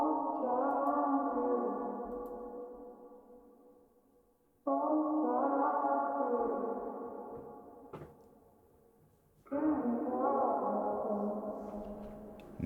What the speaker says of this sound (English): Next are these vocals that I got from Splice. I just chopped them up.